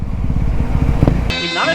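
A motorcycle with an aftermarket exhaust revs up loud and close, a rough throbbing burst that ends abruptly into a higher whine, with people talking nearby.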